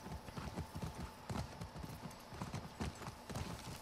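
Horse hooves clip-clop steadily and fairly close in The Last of Us Part II, a continuous galloping rhythm of repeated thuds over ambient game noise.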